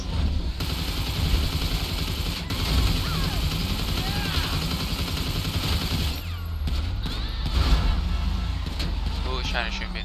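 Gunfire in GTA 5 sounds as repeated shots and bursts over a dense, busy game mix with vehicle noise, with voices talking throughout.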